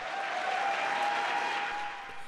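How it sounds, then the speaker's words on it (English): Applause rises in SpaceX Mission Control as a capsule splashes down under parachutes at sunset, a steady room-filling patter of many hands with a faint tone running beneath, tapering slightly at the end. "Applause was heard from Mission Control as the SpaceX capsule parachuted into calm seas shortly before sunset."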